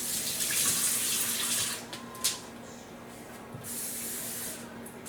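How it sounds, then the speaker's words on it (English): Water runs steadily from a tap or jug onto crushed hard cherries in a bowl, set up for dyeing with cherry wine, a continuous hissing splash with no talking. "And let's put some water on them."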